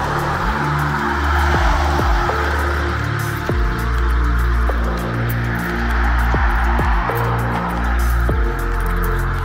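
Steady traffic rumbling through a busy intersection with a painted crosswalk, cars passing continuously and loudly close by, engines droning with repeated pass-bys and no talking.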